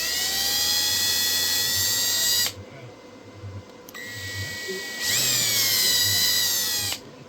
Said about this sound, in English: So let's go ahead and drill the other one out really quick